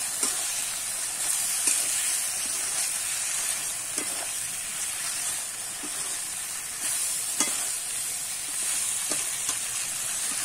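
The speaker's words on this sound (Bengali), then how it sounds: "এবার ভেজে রাখা মাছের কাঁটাগুলো কিন্তু আমি দিয়ে দেবো, দিয়ে আবার একটু কিন্তু কষিয়ে নেব।" Fried bhetki fish bones are stirred through a sizzling spice paste in a pan, with a continuous moderate frying hiss and occasional soft scraping knocks from the spatula.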